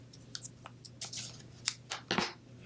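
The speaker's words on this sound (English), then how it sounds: "so I'm going to cut these off. Just cut away and cut this away too." Scissors snip paper for a Christmas-themed papercraft project, making a series of quiet, irregular crisp cuts spaced over a few seconds against a low steady background hum.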